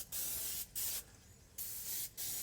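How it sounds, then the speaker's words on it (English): Oil is sprayed onto the steel of a smoker in four short, sharp bursts of close hissing aerosol spray, with brief quiet gaps between the bursts. "We'll just spray it down good."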